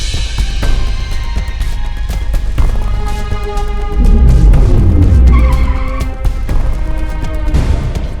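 A motorbike skids under hard braking in a busy street scene, a loud tire squeal and scrape swelling midway over a constant rumble of traffic and engine noise.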